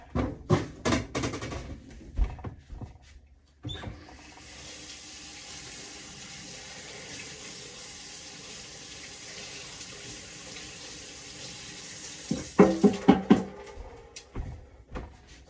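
Celery rinsed under a running kitchen tap: a few sharp clatters and knocks, then a steady stream of water for several seconds, followed by more handling clatter once it stops.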